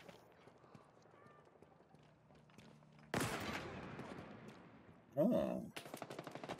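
Gunfire from a small, ugly-looking gun in Halo Infinite: loud bursts of shots break in after a quiet stretch, then a second sharp volley near the end, with a brief exclamation.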